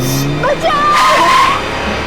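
A car swerving sharply through a turn during a chase, a tire squeal sliding across the middle of the burst amid busy road noise, with voices present.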